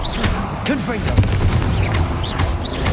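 The Confringo blasting spell in Hogwarts Legacy fires repeatedly, short punchy bursts and crackling impacts layered among busy combat clatter, with a voice calling out spell names over the noise.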